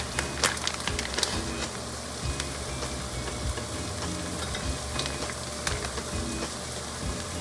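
Red chili powder and coriander-cumin powder sizzle in hot fat in an Instant Pot for dal makhani, a steady close crackle with scraping spoon strokes stirring throughout.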